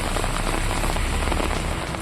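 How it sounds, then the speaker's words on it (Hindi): Heavy rain pours down in Ramban, a dense, continuous hiss of drops drumming on surfaces, loud and close with no let-up. "रामबन में पिछले 3 दिनों से तेज बारिश हो रही है।"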